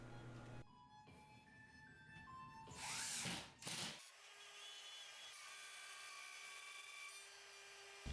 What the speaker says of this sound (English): I left the far side of the drywall unsecured while I used the rotozip around the switch box